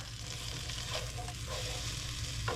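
Country Crock vegetable spread melts in a hot pan, giving off a steady, close sizzle with faint crackles and no voices.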